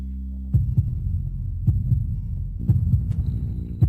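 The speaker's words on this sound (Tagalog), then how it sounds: "bumibilis ang tibok ng puso mo" Heartbeat sound effect, a deep lub-dub pulse repeating steadily about once a second, loud and close, with a low hum beneath and no voices.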